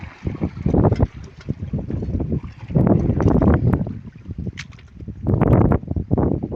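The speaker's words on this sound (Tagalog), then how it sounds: "Dumaang bangka." A boat motor rumbles past up close, loud and uneven, with wind buffeting the microphone and water splashing beneath it.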